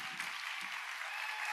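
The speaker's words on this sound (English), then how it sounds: "Let's give a big round of applause for Ryan." An audience gives steady applause after a talk on advocacy. The clapping is dense and continuous, with no breaks.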